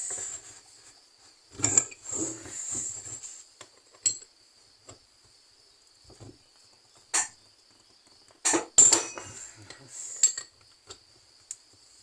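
Light hammer taps on metal to loosen a part, a handful of sharp knocks spaced irregularly over a thin, steady high-pitched whine.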